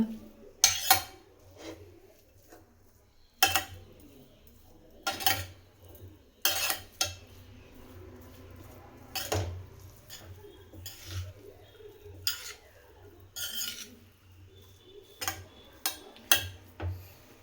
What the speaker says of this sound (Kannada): ನೋಡಿ ಈ ರೀತಿ ಎಲ್ಲನೂ ಚೆನ್ನಾಗಿ ಮಿಕ್ಸ್ ಆಗಬೇಕು ತುಪ್ಪದ ಜೊತೆ